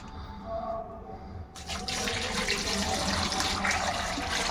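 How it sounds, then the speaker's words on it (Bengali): Water pours from a tap into a bowl of whipped cream being washed to make homemade ghee. A quiet clink comes first, then a steady splashing stream begins midway and runs on to the end. "এটাতে এখন আমি জল দিয়ে দেব।"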